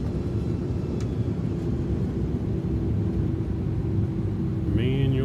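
Steady low cockpit rumble of an A300-600F freighter rolling out after landing in Microsoft Flight Simulator, with thrust reversers being stowed; a continuous even drone with a faint rising whine near the end.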